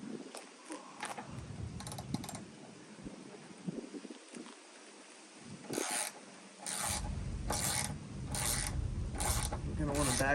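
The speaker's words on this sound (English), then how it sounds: "I'm going to start by loosening all of our body mounts here." A ratchet wrench works loose the body mount bolts on a Jeep LJ, with scraping and rubbing early on, then a run of sharp, evenly spaced ratcheting clicks toward the end, close up and moderately loud.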